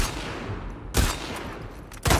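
Gunfire in The Last of Us Part 2, with two loud, sharp gunshots about a second apart standing out over a steady bed of noisy game ambience.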